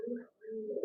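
A pair of pigeons kept for sale on a farm, calling restlessly; a close, clear low warbling coo that rolls on, dips briefly and resumes louder.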